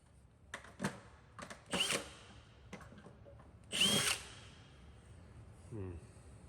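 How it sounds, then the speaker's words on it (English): A power drill bores holes into a Peterbilt 389 truck in short bursts of whining, one after another, close by, with brief quiet gaps and someone speaking faintly between them. "Looks like I may need to get a bigger drill bit."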